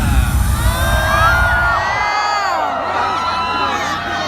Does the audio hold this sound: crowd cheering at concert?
yes